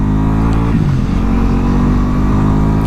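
A Ducati Multistrada V4S motorcycle engine drones loud and steady during a ride, with a slight rise and dip in pitch as it pulls along a road.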